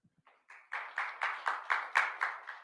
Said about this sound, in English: Hopefully you can hear the clapping.